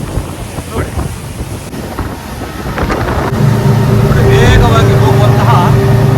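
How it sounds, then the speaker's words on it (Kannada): A motorboat on a deep-sea fishing trip off Udupi picks up speed at sea, its engine droning under heavy wind buffeting and splashing water, loud and close, with someone talking over it. "ಈಗ ನಮ್ಮ ದೋಣಿಯ ವೇಗ ಜಾಸ್ತಿ ಆಗಿದೆ. ನೋಡ್ಬೋದು, ಈಗ ವೇಗವಾಗಿ ದೋಣಿಯನ್ನು ಓಡ್ತಿದ್ದಾರೆ."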